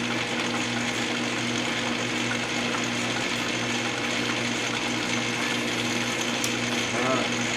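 Hard metal part getting a light skim cut on a machine, a steady high whine with a constant mechanical drone, close and unbroken throughout.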